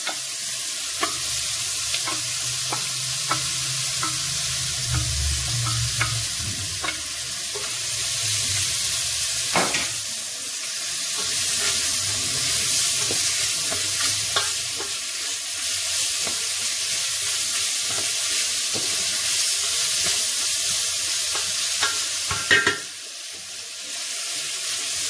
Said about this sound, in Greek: Περιμένουμε λίγο να τσιγαριστούν.